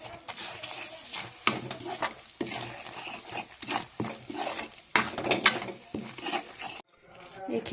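Coconut and a spoonful of ghee are stirred in a pan for laddu, a close series of scraping, rustling stirs with light utensil clinks against the metal, starting and stopping in irregular bursts.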